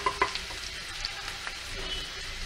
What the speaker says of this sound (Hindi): अब हम इसको हल्का भून लेते हैं।